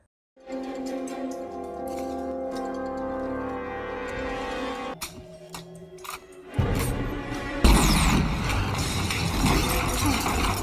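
A cannon fires in a film scene. A loud, broad blast cuts in after sustained tonal music, and heavy rumbling noise follows to the end.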